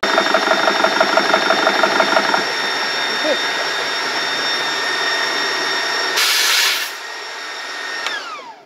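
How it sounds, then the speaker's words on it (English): A small portable compressor runs steadily while filling an air gun to its fill pressure, a continuous droning whine with pulsing at the start, a burst of hissing air release near the end, then the motor winding down. "Very, very cool little compressor."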